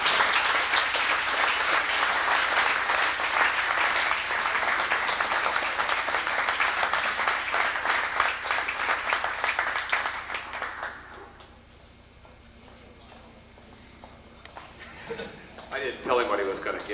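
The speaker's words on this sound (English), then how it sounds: "I think that they deserve a round of applause" Applause fills a boys' soccer banquet hall in 1987: loud, sustained clapping from a large crowd for about eleven seconds, then it fades away, leaving quieter room sound and voices.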